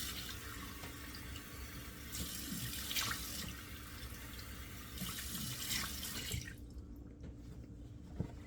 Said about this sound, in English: I'm turning the cold water on in the sink